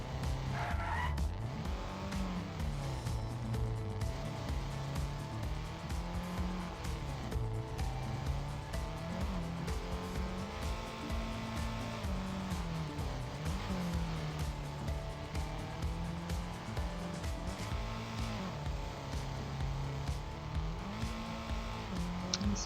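A rally car tears through a stage of an online video game rally cup final, its engine revving up and down through gear changes with tire skids and squeals, loud and continuous throughout.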